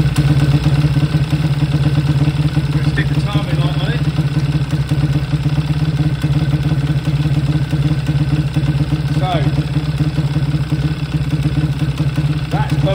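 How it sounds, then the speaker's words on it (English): A Zongshen 212 small engine fitted with an ignition corrector fires up and settles into a steady, loud idle, a constant throbbing drone with light clatter. "I'm gonna crank it up quickly."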